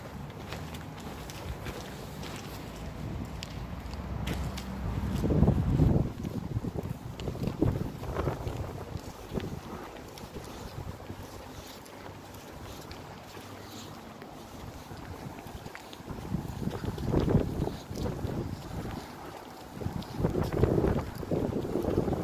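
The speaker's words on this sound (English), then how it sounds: "Very windy." Strong gusts of wind buffet the microphone outdoors at a football club ground, producing a loud, rumbling roar that swells and eases in waves throughout, with no talking.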